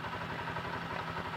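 A motorcycle engine idles steadily while driving a sprayer pump, with a low, even throbbing that runs throughout at moderate, close range.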